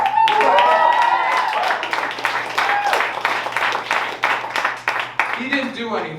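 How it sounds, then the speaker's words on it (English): Applause for Oscar, an audience volunteer at a comedy show: scattered, distinct hand claps that thin out toward the end as a voice resumes speaking. "A big round of applause to Oscar."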